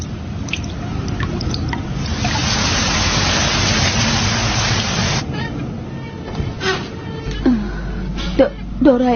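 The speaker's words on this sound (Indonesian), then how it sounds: "itu cuma angin dan hujan juga" Steady rain and gusting wind in a Doraemon cartoon scene, a broad hiss that swells over the first five seconds, then thins as voices talk and small knocks sound over it.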